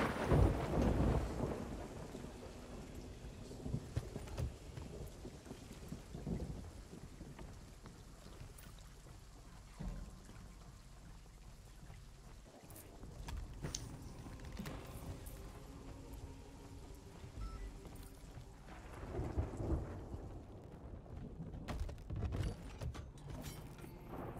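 Video game thunderstorm with steady rain and rolling, rumbling thunder swells, a low continuous wash throughout.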